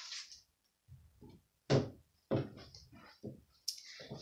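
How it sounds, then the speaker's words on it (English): A closet door is handled and shut indoors, with several sharp knocks and a firm thud among scattered rustling and clicks, fairly close and otherwise quiet. "so let me shut the door."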